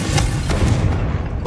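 Confringo explosive spell cast in Hogwarts Legacy on PS5, a loud, dense booming blast that rolls on steadily for over a second with a heavy low rumble.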